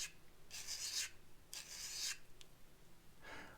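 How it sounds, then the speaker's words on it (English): Carbide-edge utility blade clamped while its corners are rounded off for woodworking use, heard as three scraping rasp strokes, each about half a second, close up, followed by a softer fourth stroke, with no talking. "what I found is best to do, there's a clamp, is to take and round the corners off here"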